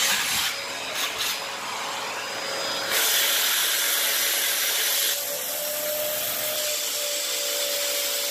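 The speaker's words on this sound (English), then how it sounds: "I'm just going to take my standard vacuum hose, connect it right there" A standard vacuum hose sucks air through a foam seal on an epoxied phone screen repair, giving a steady close whooshing hiss with a faint whine, shifting briefly in tone as the hose is adjusted.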